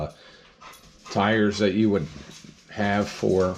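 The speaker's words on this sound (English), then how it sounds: "that was my dog going by" A pet dog passing by lets out two short bursts of whining yips and barks, fairly close, partly overlapping someone talking about model car tires.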